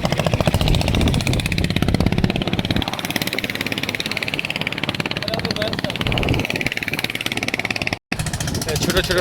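A small fishing boat engine chugs steadily and close by as boats head out to sea from a hilsa fishing landing in Lakshmipur, a loud, even mechanical pulse with a brief dropout near the end.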